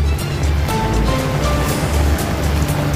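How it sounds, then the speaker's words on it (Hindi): Loud, constant rushing and churning of floodwater pouring into a Muslim cemetery in Faizpur and flowing over the graves, a dense close roar with no break and no speech. "पानी कितनी तेजी से मिल्लत नगर का पानी जो है कब्रिस्तान के अंदर आ रहा है।"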